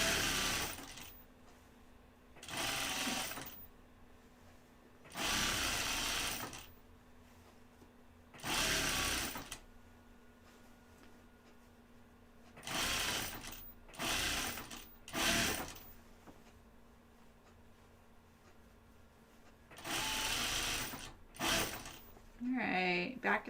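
A home sewing machine stitches fabric in several short bursts of rapid whirring, close and clear, separated by quiet pauses, with some faint handling noise between runs.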